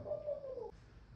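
A single soft, low dove coo drawn out over a quiet background, faint and close.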